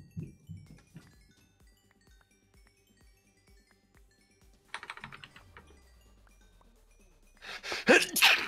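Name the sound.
sneeze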